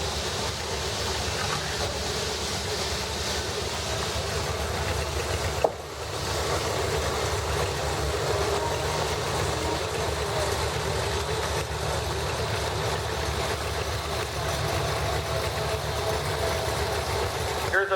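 A 1942 John Deere LA tractor running at a parade in Sycamore, Illinois, a steady low engine chug heard amid outdoor crowd noise, with a brief thump partway through and voices faintly in the background.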